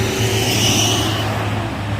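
A Simpati Star bus drives along the road, its steady low engine drone and rolling road noise sustained and fairly close throughout, with no talking.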